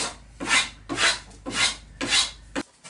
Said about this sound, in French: On a poncé le mât, affiné un peu en haut, un petit peu arrondi